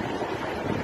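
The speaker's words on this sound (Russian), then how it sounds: "Насколько сильные волны теперь" Strong ocean waves break on a Kamchatka shore in a brief, dense wash of surf and wind noise, loud and close, no voices.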